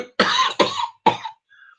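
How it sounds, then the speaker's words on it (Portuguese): Three harsh coughs in quick succession from a slightly ill man giving a lecture, close and loud, followed by a brief faint tone. "eu estou meio doente, mas de vez em quando eu vou tossir"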